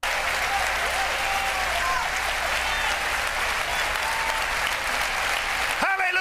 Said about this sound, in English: And everybody's cheering for it.